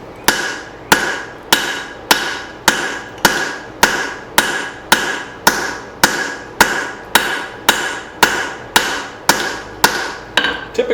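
Hammer blows strike a chisel while forging an axe hatchet, a steady series of about eighteen sharp, loud, close metallic hits at an even pace, each ringing briefly before the next.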